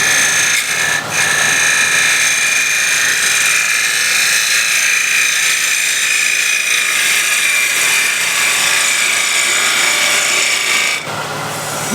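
A power tool cuts and shapes wood for a small heirloom box, giving a loud, steady, close grinding whir that runs almost unbroken for the whole stretch before cutting off near the end.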